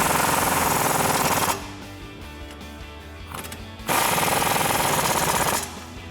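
An impact wrench tightens nuts onto bolts with a 24mm socket on a 2015-2024 Mustang during a lowering spring install, firing two loud, close bursts of rapid hammering separated by a quieter pause.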